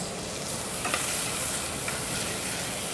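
Onions soften as they fry in olive oil, a steady close sizzle that holds level throughout, joined by a few faint scrapes of stirring and no talk.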